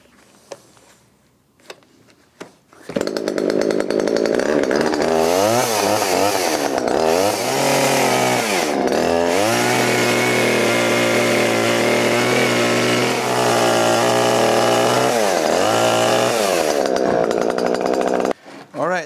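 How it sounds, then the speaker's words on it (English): A chainsaw cuts old wooden planks off the support beams of a house dating from 1616. After a few quiet seconds it roars up loud and close, with a steady snarl and pitch dips as the blade bites, then cuts off near the end. "And for that, I'm going to use my chainsaw."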